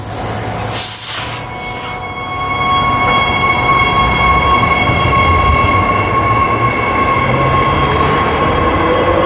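A train rumbles steadily past at close range as it departs a station, with a sustained rolling roar and faint metallic whine, continuing loud throughout with no voices.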